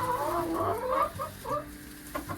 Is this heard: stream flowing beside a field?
no